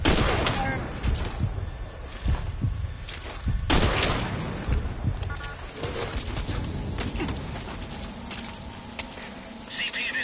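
Gunfire in a military video game: several sharp, booming shots at irregular intervals, loudest early on, over a steady ambient rumble with faint chirping in the background.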